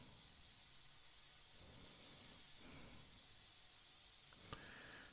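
An airbrush sprays paint onto a Revell 1/48 PBY-5 Catalina model kit, giving a faint, steady, continuous hiss throughout with no voices.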